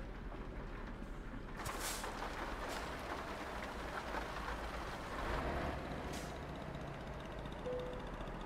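Steady rain patters in Euro Truck Simulator 2 while a truck drives Japanese roads, a soft continuous hiss with a low engine rumble beneath and a few brief brighter splashes.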